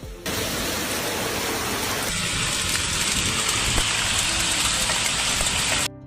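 Heavy rain pours steadily during a storm in Catania, Italy, a dense continuous hiss of water hitting streets and surfaces, loud and unbroken from start to finish with no voices.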